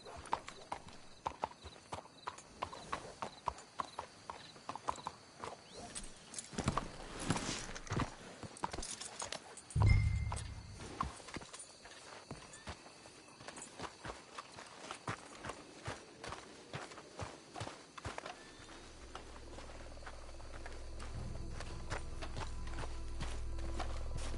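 Horses in Red Dead Redemption 2 clop and shuffle at a walk, close hoofbeats in uneven rhythm that slow and settle, with brief snorting and a low rumbling bed toward the end.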